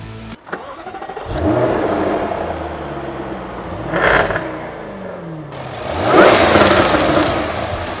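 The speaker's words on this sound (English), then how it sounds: "Just listen to the noise it makes when you start it up." A 2014 Jaguar F-Type fires up with a sharp starter burst, then settles into a loud, close idle with rumbling revs that swell twice, the last rev the strongest.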